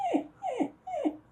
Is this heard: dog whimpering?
yes